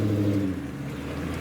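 A manual car's engine revs during a burnout attempt, a low steady rumble that swells briefly then settles into an even drone, fairly close and without speech.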